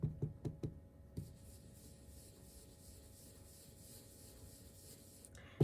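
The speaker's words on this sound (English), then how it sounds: "all I'm going to do is I'm going to start rubbing this in a circular motion over it" A few soft knocks of an ink pad tapped onto a card, then a steady, close, papery rubbing as the pad moves in circles across the card's surface for several seconds.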